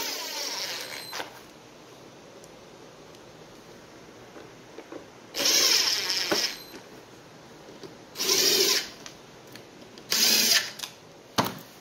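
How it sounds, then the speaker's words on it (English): A power drill tightens the four screws holding a Graco 490 display board, heard as three short whirring bursts spaced a couple of seconds apart over a quiet background, close and fairly loud, ending with a brief click. "We're going to tighten our screws up for our display."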